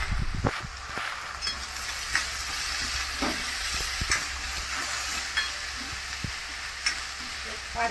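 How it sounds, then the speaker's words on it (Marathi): Onions sauté in a pan over a base of asafoetida, curry leaves and ginger-garlic paste, giving a steady sizzle broken by repeated scraping clacks of stirring, with no voices. "पाच मिनिटं कांदा परतून घ्यायचा"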